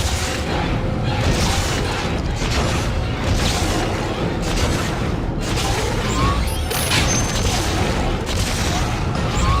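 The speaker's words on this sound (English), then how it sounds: "Not really sure why bits of the ceiling are falling apart, though." Dense, continuous rumbling and crashing debris as a ship breaks apart in Dead Space: Extraction, with ceiling fragments falling amid heavy booms and metallic clatter, loud throughout the whole stretch.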